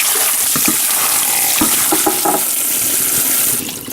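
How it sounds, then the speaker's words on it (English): Blackberries are rinsed under a running kitchen tap, with a loud, continuous close hiss of water and small splashes that ease off at the very end. "gonna rinse the blackberries."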